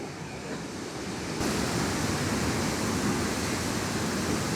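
A 21-metre waterfall rushes with a steady, broadband roar of falling water that grows noticeably louder and fuller after the first second and a half, with no voices.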